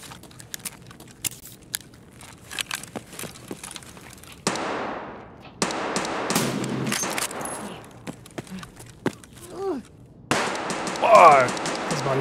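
Bolt-action VPO-215 sniper rifle shots in the Escape From Tarkov video game: a few sharp, loud reports spaced several seconds apart, each with a decaying tail, among quieter game noise and some voice chatter.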